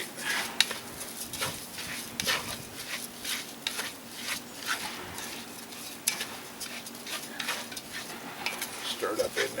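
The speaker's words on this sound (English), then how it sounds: "stirred up in there. Get them good and coated." Chicken and rice for arroz con pollo are stirred in oil inside a Dutch oven, giving a quiet, irregular series of scraping spoon strokes and faint sizzling, soft and close with no talking.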